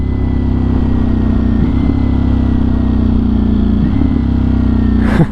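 A 2023 Ducati Streetfighter V4 motorcycle engine drones loud and close while being ridden, with brief dips in pitch around quick downshifts and steady rushing wind underneath.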